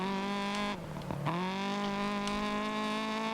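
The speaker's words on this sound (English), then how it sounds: "you can hear this car just screaming as it drives here" A rally car in DiRT Rally 2.0 screams at high revs, a loud sustained engine whine that dips briefly as it shifts, then climbs straight back up to a steady howl.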